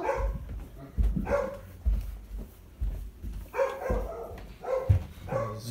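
Several dogs bark indoors in a house, a series of loud, close barks at irregular intervals, overlapping one another over a steady background hum.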